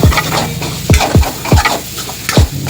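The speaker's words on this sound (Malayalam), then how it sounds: "ഇതെല്ലാം നമുക്ക് നല്ലോണം മിക്സ് ചെയ്ത് എണ്ണ വഴഞ്ഞ് വരുന്ന വരെ നമുക്ക് വഴറ്റി വെക്കാം." Masala sautéed in oil in a pan for a soya bean curry, with soft frying sizzle under repeated loud scraping stir strokes, roughly one every half-second, close by and without talk.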